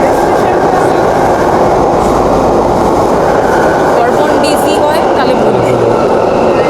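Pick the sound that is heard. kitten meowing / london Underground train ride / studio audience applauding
london Underground train ride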